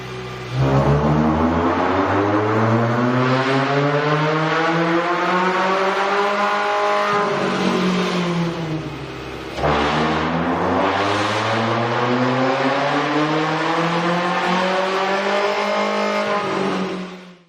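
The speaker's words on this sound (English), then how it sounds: "You can really see and hear the difference the K&N air intake system will make to your car" A Mitsubishi Lancer engine fitted with a K&N air intake revs loudly and alone, in two long runs that each climb steadily in pitch, then drop away briefly before rising again.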